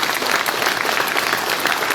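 An audience at a book presentation claps steadily for two seconds, a dense and even burst of applause filling the room with no voices above it.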